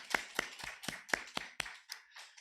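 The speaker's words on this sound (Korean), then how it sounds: "이걸 하나님께 감사의 박수 한번 치고 시작합시다" Church congregation clapping in thanks to God, with a short run of roughly eight distinct, spaced claps that fade toward the end.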